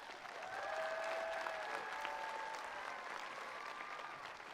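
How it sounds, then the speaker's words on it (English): Sustained audience applause fills a commencement ceremony at a high school graduation, steady and full from start to finish with no speech over it. "Let's give them a round of applause."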